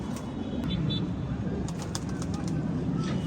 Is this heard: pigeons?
yes